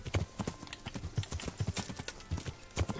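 Horse hooves clip-clop in a steady, uneven gait through the medieval video game Kingdom Come Deliverance, the thuds close and fairly loud, with faint game ambience around them.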